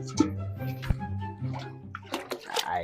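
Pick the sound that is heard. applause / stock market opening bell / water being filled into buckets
water being filled into buckets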